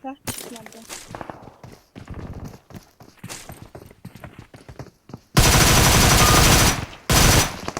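PUBG Mobile gunfire played on an iPhone 11: someone talks over soft in-game footsteps, then a loud sustained burst of automatic fire erupts, briefly pauses, and a second short burst follows.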